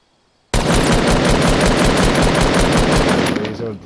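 Sustained automatic assault rifle fire in a video game, a loud continuous rapid stream of shots lasting over three seconds before cutting off abruptly.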